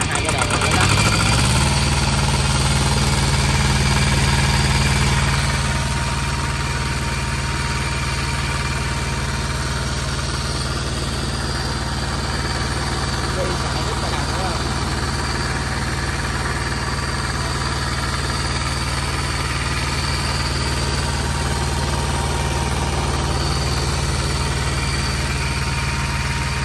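A 5 kW home generator engine cranks and settles into a steady, loud, continuous idle with a constant mechanical hum and vibration, running alone without pause.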